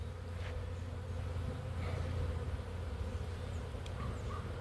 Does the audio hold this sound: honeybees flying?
yes